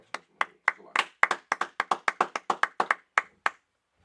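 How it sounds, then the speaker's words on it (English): A church congregation at a Sabbath service claps hands together in a steady rhythmic run of about fourteen sharp, close claps over a few seconds, then stops. "go ahead, clap it up"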